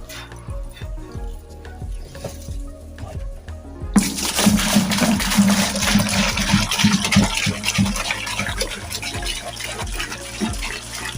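Cow urine gushes from a storage can in a steady, loud pour that starts abruptly partway through and runs continuously, with a voice faintly underneath.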